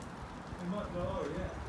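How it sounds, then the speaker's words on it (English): Rain falling outdoors, a steady close patter on surfaces with a muffled voice-like murmur mixed in over a short stretch. "Well, the rain's getting worse all of a sudden."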